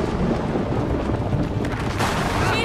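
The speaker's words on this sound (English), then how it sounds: "What the hell is this storm?" Thunderstorm in the horror game Outlast 2, with a continuous loud roar of heavy rain and rumbling thunder filling the scene and a sharper crack swelling near the end, no voices.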